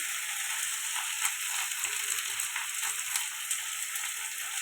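Ginger garlic paste and turmeric frying in a pan for a spicy fish curry, a soft steady sizzle with faint crackles, moderately quiet and close with no talking.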